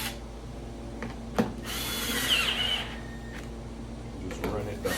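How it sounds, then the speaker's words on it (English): A Milwaukee cordless drill whirs briefly in a short close burst over upholstery work, with workshop clatter and handling knocks around it. "Got our Milwaukee drill set."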